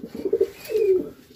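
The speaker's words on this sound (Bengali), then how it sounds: "এপ্রিল লাইনের নর কবুতরটি।" Male pigeon in a loft giving two soft, low coos, a short pulsing one followed by a longer drawn-out one, close and clear against a quiet background.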